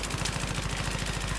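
Rapid automatic F2000 rifle fire in Battlefield 3, fitted with a flash suppressor, rattles out as a fast, even burst of close shots that continues through the whole short stretch.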